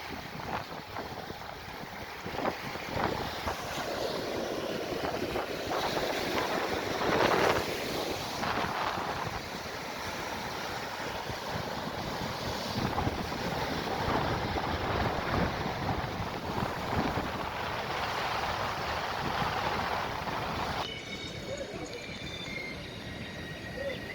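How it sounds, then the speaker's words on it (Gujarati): Strong sea waves crashing at Devka beach, heard as a continuous broad roar of surf mixed with buffeting wind on the microphone, steady and loud for the whole stretch, with no talk. "કારણ કે જબરજસ્ત પાણી ઉછળી રહ્યું છે."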